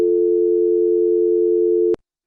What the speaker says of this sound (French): écouter la tonalité